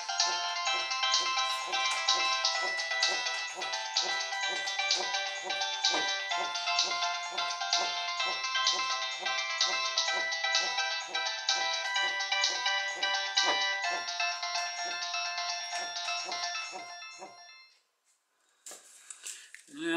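A mobile phone loops a bright, rapid electronic ringtone melody for about seventeen seconds, loud and steady, then stops abruptly, followed by a few faint rustles and handling noises.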